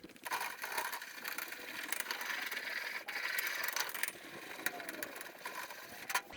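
A 3D printer whirs and ticks as its stepper motors move back and forth printing a small cap, a busy mechanical buzz with brief clicks and pitch sweeps, heard close with no talking.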